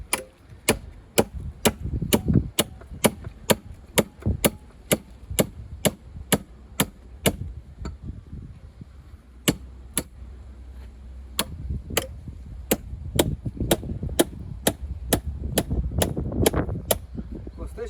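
A hammer strikes a steel tank hinge again and again in a steady rhythm of sharp, ringing clanks during a crash test, pausing briefly midway, with low background noise between blows.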